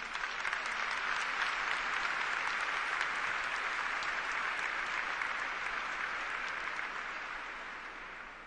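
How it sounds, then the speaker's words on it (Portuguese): A church audience claps after a scripture reading with dense, even, sustained applause from a large crowd that tapers off slightly toward the end. "Vamos aplaudir essa palavra."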